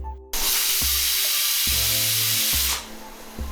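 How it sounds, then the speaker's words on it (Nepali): A pressure cooker on a gas flame, cooking chicken biryani, lets out one long, loud steady whistle of hissing steam lasting over two seconds, cutting off sharply, with faint clinks and tones beneath. "अब प्रेसर कुकरलाई हामीले 1 सिटी लाउनु पर्छ।"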